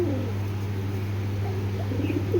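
A pigeon coos in low, soft, repeated calls close by, set against a steady background hum, without speech.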